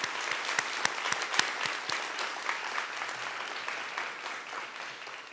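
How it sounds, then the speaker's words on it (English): Sustained applause from an audience at a nursing pinning ceremony, a dense, even patter of many hands clapping at moderate volume that tapers slightly toward the end, with no talking. "have all of us offer an applause to those individuals"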